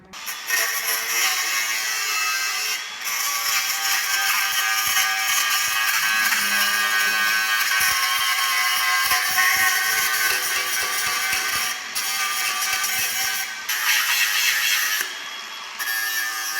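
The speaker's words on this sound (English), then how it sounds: "I've got angle grinder for scratch all old paint, galvanising, spray off" An angle grinder whines steadily at high pitch, scraping old paint and galvanising off metal with rough clattering texture, loud and close, with a few brief dips.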